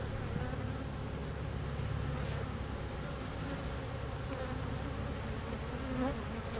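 Dense, steady buzzing of many honey bees from a hive with varroa mite infestation fills the whole stretch, a continuous droning hum close by with no pauses.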